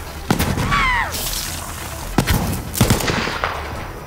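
Sharp, loud shots from an accurate gun in Borderlands 3 crack out in a few separate bursts, spaced irregularly, with a brief whistling effect early on and little talk over them.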